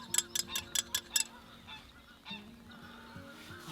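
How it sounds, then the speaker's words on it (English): Geese honk near a carp-fishing lake, a quick run of five or six loud calls in the first second, then fainter scattered honks with a lower drone underneath. "the bird life on here is insane"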